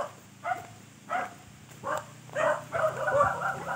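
Several dogs bark in short bursts, a few separate yaps followed by a quicker cluster of barking, fairly close with some background noise.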